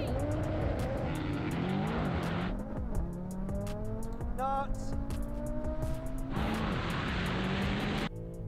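A Porsche 992 Turbo and a heavily tuned Audi RS3 with around 850 wheel horsepower race hard, their engines revving with rising and falling tones that shift through gears, loud and sustained with a brief squeal near the middle.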